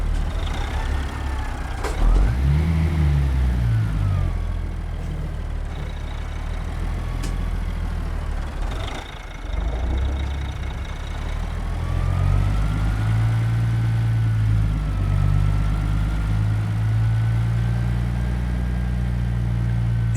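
Kenworth LW heavy haul truck with a Murray lowboy trailer, a full-time 8x6 rig in American Truck Simulator, West Texas: a steady, loud diesel engine drone that dips briefly near the middle, then rises to a heavier rumble.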